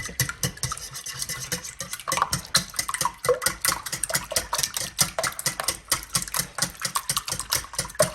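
Eggs being beaten with salt and black pepper for a Spanish potato tortilla, a steady run of rapid whisking or stirring strokes close up, with dense rhythmic clatter against the bowl and no talking.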